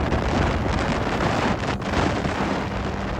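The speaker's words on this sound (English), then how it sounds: "There's also 35km winds right now" Strong wind of about 35 km/h sweeps across a mountain ridge in New Zealand's Tararua Range. It roars and buffets the microphone in a loud, constant rush with no talking.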